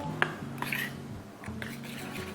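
Utensil stirring a small sauce of oyster sauce, soy sauce, sugar and cooking wine in a bowl, light repeated clinks and scrapes in quick bursts, close and fairly quiet.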